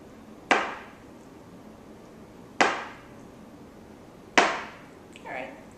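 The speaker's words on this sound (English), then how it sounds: "I'll cut the slabs up into some strips" A knife cuts stacked tofu slabs into strips for mee goreng, landing three sharp, close chops on a board about two seconds apart, each with a short ringing decay.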